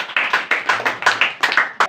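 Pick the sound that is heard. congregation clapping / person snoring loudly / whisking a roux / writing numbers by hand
congregation clapping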